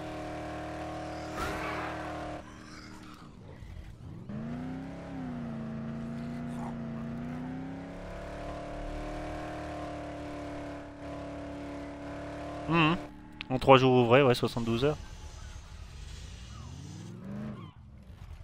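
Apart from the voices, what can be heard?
car driving and crashing in the video game Dead Island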